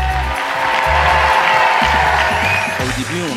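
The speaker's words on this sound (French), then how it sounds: "Vous pouvez vous applaudir" Young audience at the FestiPrev youth prevention festival applauding and cheering loudly and continuously, with booming event music underneath.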